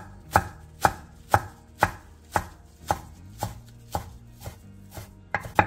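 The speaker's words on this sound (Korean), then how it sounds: "깻잎 8장의 꼭지를 잘라낸 뒤 길게 반으로 잘라 채 썰어주세요." A kitchen knife slices perilla leaves into thin strips on a cutting board, making about a dozen crisp, evenly spaced chops close by, with no talking.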